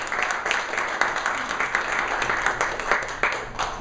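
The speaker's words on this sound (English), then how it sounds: "let's give her a round of applause" Applause at a press conference for a DREAM fellowship, a steady wash of clapping from an audience lasting the whole stretch, fairly even with small swells.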